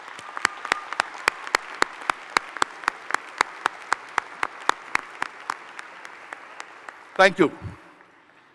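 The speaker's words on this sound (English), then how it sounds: "so that we can give you a round of applause" An audience at a community ceremony claps for WEF recipients, crisp evenly spaced claps that thin out and fade, followed by a brief spoken voice near the end.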